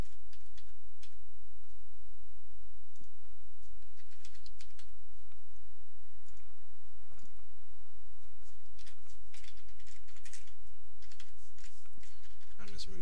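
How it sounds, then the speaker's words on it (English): Rapid clicks of a computer keyboard being typed on, in short irregular bursts of keystrokes close by over a low steady background hum. "I'm just going to type in Amazon"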